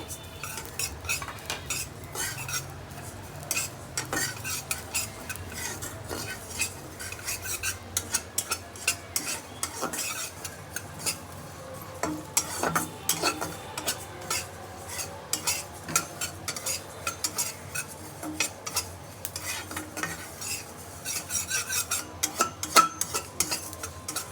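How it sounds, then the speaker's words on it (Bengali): Sesame seeds frying in a pan, with steady scraping and clinking as a spatula stirs them against the metal throughout. "প্রথমে মা তিলটাকে ভেজে নিচ্ছে"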